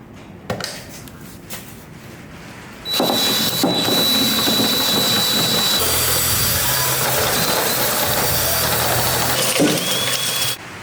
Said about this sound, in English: I'm using a 3/4 inch drill bit, and I'm going to be drilling through all this unibody right here.